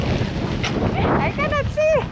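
Blizzard wind gusting around people out in the snow, a brief, rough roar of microphone buffeting beneath voices talking close by.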